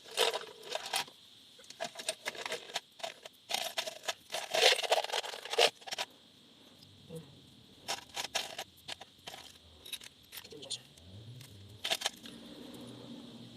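Loose high-strength 12.9-grade screws rattle and clink together as a handful is sorted for fitting an aftermarket steering wheel to a Nissan 300ZX, with irregular metallic jingles in bursts that thin out into a few quieter scrapes.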